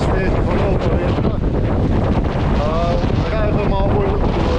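Strong wind buffets a sailboat at sea as waves wash and surge around the hull, a steady loud roar of gusts and water filling the whole stretch with faint voices underneath.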